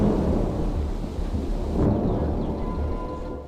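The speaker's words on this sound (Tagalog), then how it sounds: "biglang bumuhos ang ulan." Heavy rain pouring down in a thunderstorm, with a dense, steady wash of rainfall and low rumbling thunder rolling underneath throughout, loud and close with no voices.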